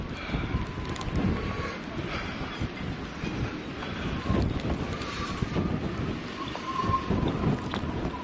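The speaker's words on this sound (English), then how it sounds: "Listen to that wind." Gusty wind buffets the microphone at Watchet harbour, a continuous rough rumble that swells and eases in loud gusts throughout.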